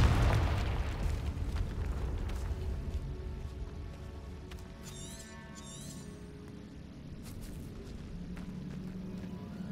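A Confringo fire spell blast in Hogwarts Legacy, a heavy booming burst at the start that decays into a rumbling tail, with faint magical shimmer and ambient game sounds afterward.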